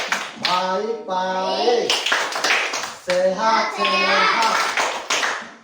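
A group of children clap in a steady rhythmic pattern during the Indonesian 'Tepuk apa kabar' clap chant, loud and close, with the young voices chanting along the whole way through.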